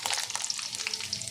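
Onions hit two spoons of hot oil in a pan and fry with a crisp, close crackle and spitting sizzle, a brief busy burst with no talk.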